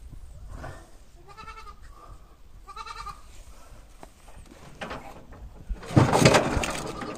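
A ram bleats repeatedly while being roped on a farm, the calls midrange and fairly close, followed by a louder burst of scuffling and handling noise near the end.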